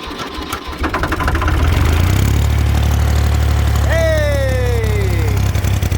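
A Ford F-150 truck engine cranks, catches and settles into a steady, loud idle with a low rumble, while a rising whine sweeps across the sound toward the end.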